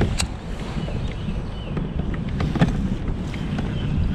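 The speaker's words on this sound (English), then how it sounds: "the wind's crazy" Strong gusting wind buffets the microphone out on a lake during a crappie fishing trip from a boat, a loud broadband roar with water sloshing faintly underneath and no talk.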